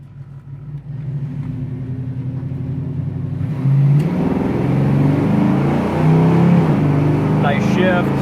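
A 1980 Pontiac Trans Am restomod's engine on a road test drive, a loud near rumble that steps up in revs and pulls through a gearshift, with a voice speaking over it.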